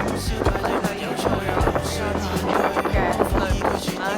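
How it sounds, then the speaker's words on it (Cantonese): Strong wind gusts outdoors on a winter day in Tokyo, buffeting the microphone with a continuous low rumble and rushing noise across the whole stretch. "哇好大風。"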